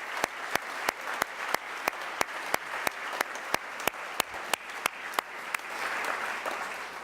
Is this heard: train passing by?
no